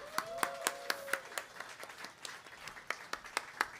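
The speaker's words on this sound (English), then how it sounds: "let's give them a big round of applause" Sparse, scattered clapping from a live audience near WWDC 2024 greeting new sponsors, with individual hand claps standing out in an uneven rhythm at moderate distance.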